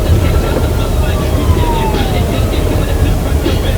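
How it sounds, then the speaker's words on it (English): A faint rising-and-falling siren wails in the distance beneath loud, steady rumbling road noise inside a moving vehicle. "I hear a police car."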